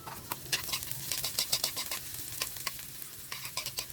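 Garlic fries in a pan with a close crackling sizzle, broken by sharp bursts of stirring scrapes in an uneven rhythm, and no one speaks.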